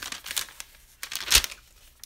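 A taped mail envelope is torn open by hand, with crisp paper crinkling and ripping bursts close by, the loudest rip coming near the end.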